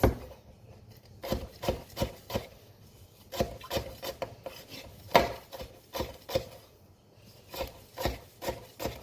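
A knife slicing food on a cutting board in a kitchen, giving a steady series of crisp, close cutting strokes, roughly one every half second, with no talk.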